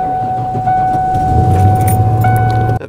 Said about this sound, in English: That V8 rumble is so nice.